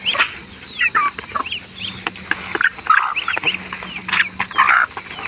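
Chickens cluck and squawk in a busy, overlapping chorus, close by, with short bursts rising and falling throughout.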